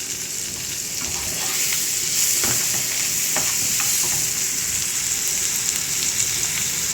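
Ginger and chopped green chilli sauté in a hot pan on a raised gas flame, a steady, loud sizzle running throughout with a few soft spatula scrapes and clicks.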